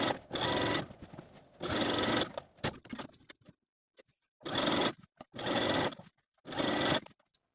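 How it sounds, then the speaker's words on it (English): Domestic sewing machine running a straight topstitch along an elastic waistband on pants, three loud bursts of stitching separated by pauses and small handling noises. "You're just going to be using a regular straight stitch, pulling the elastic taut as you sew so that the fabric is nice and straight."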